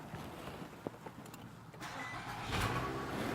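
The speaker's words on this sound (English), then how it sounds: "I'm just going to ask you if you wouldn't mind to start your vehicle again" A car engine starts up at close range during a vehicle inspection, cranking briefly and then settling into a steady, low rumbling idle; a faint voice may be present.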